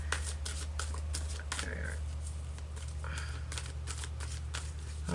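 Archangel oracle cards being shuffled: a series of quiet, crisp riffling flicks and slides in short clusters over a steady low background hum.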